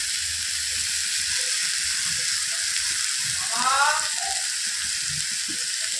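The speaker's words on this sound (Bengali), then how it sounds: "একটু নুন দিয়ে ঢেকে আগে একটু ভেজে নেবো।" Beetroot sizzles in a pan after salt is added, a steady hiss of frying with occasional soft stirring and utensil clicks, close and continuous, with no voices.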